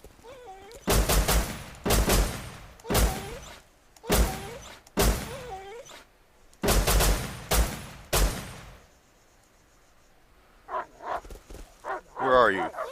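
Guns fire in Rust in a series of loud, sharp bursts, roughly six heavy shots spaced about a second apart, followed by quieter scattered sounds and a voice near the end.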